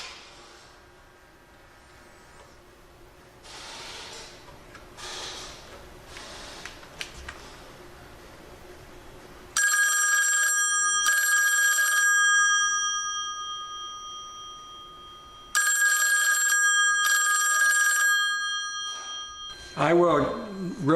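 A telephone on a step-by-step rotary party line rings with loud metallic bell bursts in two double-ring groups, preceded by quieter rustling and handling noises and followed by a brief thump.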